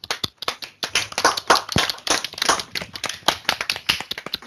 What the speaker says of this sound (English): round of applause for Adrian Malone